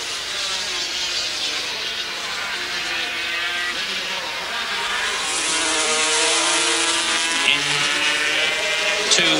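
Honda NSR500 V4 racing motorcycles scream past at the 1984 Dutch TT in Assen, their high-revving engines whining steadily with rising and falling pitch. A race commentator talks over the engine noise.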